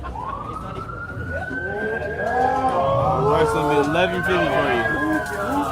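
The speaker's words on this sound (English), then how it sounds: "That's the ambulance." A wailing emergency siren rises and sweeps in pitch, fairly close and loud, while people talk over it amid traffic noise.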